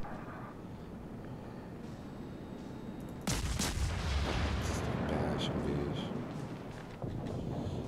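Naval artillery from a Kongo battleship in World of Warships booms out as a sudden heavy blast, then a sustained loud rumble that rolls on beneath faint background game noise.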